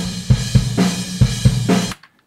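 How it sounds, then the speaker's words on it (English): Ludwig 24-inch metal bass drum captured by an outside microphone, struck in a steady pattern of deep, boomy, resonant thumps with a roomy tail, alone and ending abruptly. "I have one outside in an extra Ludwig 24-inch metal bass drum"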